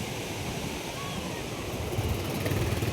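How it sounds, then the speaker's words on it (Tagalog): Large ocean waves breaking on Bagasbas beach at night, a steady close wash of surf noise that swells slightly toward the end, with faint talk in the background. "At malalaki ang alon."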